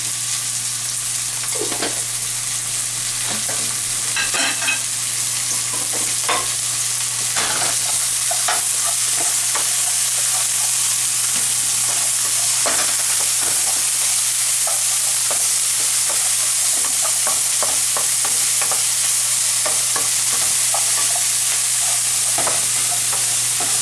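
Onions and garlic fry in a hot pan for seafood pasta: a loud, continuous close-up sizzle with occasional stirring scrapes and a faint steady hum underneath, no voices.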